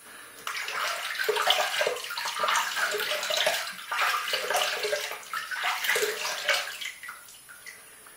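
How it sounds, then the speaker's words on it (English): Tap water runs steadily into a basin for several seconds while a face is wetted before a wet shave, with soft splashing and gurgling close by and no talk. "Let me just go and get my face wet."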